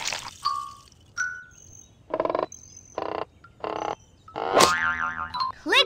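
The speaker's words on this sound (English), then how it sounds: "Good finding. It's the tree frog." A cartoon tree frog croaks in a playful animated scene, a series of short, bouncy, boing-like croaks in rhythmic bursts, followed by a springy, warbling twang near the end.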